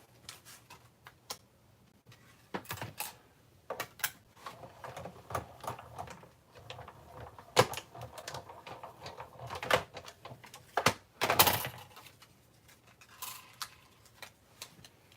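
Paper being cut by hand for a handmade journal, a series of short irregular snips and crisp rustles, close and fairly quiet, with brief clustered bursts of louder crinkling.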